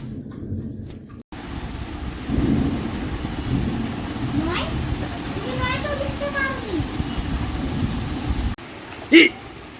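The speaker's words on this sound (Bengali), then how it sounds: "ঝড় বৃষ্টি ঝড় বৃষ্টি হচ্ছে" An evening thunderstorm with lightning: steady, hissing rain fills the whole stretch while a deep, rolling thunder rumble swells in after a couple of seconds and lingers, with brief voices rising faintly over it and a sharp knock near the end.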